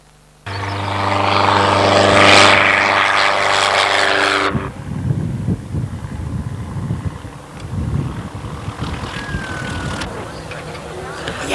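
A propeller-driven light aircraft at Woodvale Aerodrome drones loudly with a steady harmonic engine tone, then the engine sound drops away into gusty wind buffeting the microphone.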